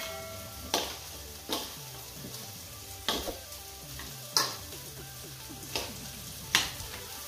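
Chicken and tofu with lemongrass sizzling in a pan, a spatula scraping and clacking against the pan every second or so during the stirring, steady frying hiss beneath, no voices.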